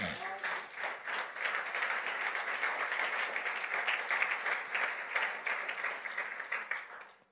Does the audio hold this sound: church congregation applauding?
yes